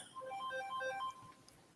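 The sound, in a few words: phone alarm ringing as a medicine reminder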